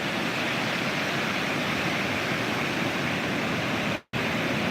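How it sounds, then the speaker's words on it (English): Ocean surf breaks and rolls onto the shore in a continuous, dense roar of crashing water, steady and fairly loud with no voices. "Surf is up."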